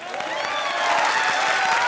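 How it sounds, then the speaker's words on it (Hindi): A studio audience on a comedy show claps loudly and continuously, a dense, steady wash of applause with a faint crowd murmur, sustained through the whole moment without a break. "चलो जोर से ताली बजाओ"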